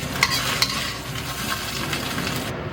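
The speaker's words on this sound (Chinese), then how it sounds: "第一步我都是先炒鸡蛋啊" Eggs stir-frying in a hot wok for a tomato and egg dish, with a steady close sizzle and a couple of sharp scraping clinks of the spatula against the metal early on.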